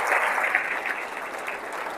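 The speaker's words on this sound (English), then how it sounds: "Can we just give them a huge round of applause?" Audience applause at a city State of the City address, a steady wash of many hands clapping at moderate volume throughout, with no talking over it.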